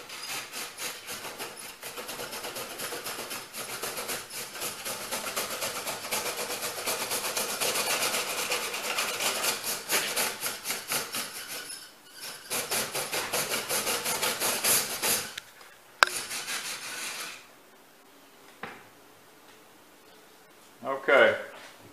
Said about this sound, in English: take this brush now, as long as that draft is going, and try to move as much of this creosote toward the other end of that pipe